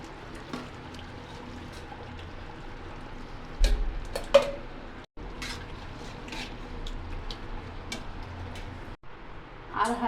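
Cooked beef for tehari is lifted from a pot into a bowl: a few sharp clinks and scrapes of a utensil against metal stand out over quiet kitchen background, with short pauses between.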